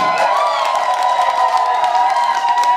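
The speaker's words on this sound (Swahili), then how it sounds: "Piga makofi." A lively crowd claps and cheers loudly and steadily, with whoops and children's shouts mixed in, filling the space right after a young boy's dance performance.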